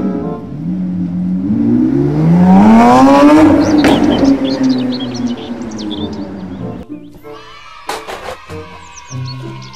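A loud race car engine revs up and down, rising in pitch then falling away, followed by quieter engine sputters and high chirps.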